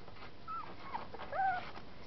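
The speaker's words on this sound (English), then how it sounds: "They are happy puppies." Setter puppies whimpering in a litter, a few faint, brief high whines rising out of quiet background hiss.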